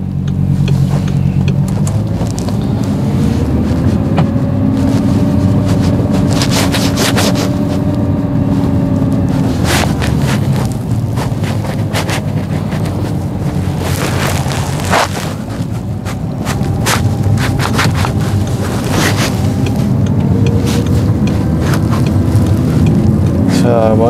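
An Audi R8 V10 sports car on a driving test gives a loud, continuous engine drone with occasional deeper booms and surges, staying close and dominant throughout.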